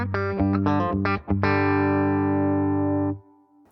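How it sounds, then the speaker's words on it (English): Electric guitar through the Morgan Amps Suite amp plugin with the doubler switched off: a few quick distorted chord stabs, then one chord left ringing for nearly two seconds before it is cut off, loud and dry with no voices. "So without the doubler, here's how my guitar sounds."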